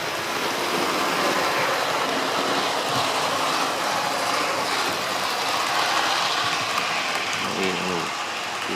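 A model railway train runs on DCC-wired track toward a 21-inch radius corner, a continuous close whirring rumble of wheels and motor that builds in pace, with a person talking over it.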